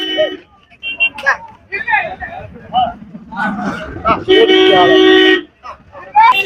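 A vehicle horn sounds at a busy cattle market in Manapparai, a loud sustained honk close by, with shouting and crowd chatter around it.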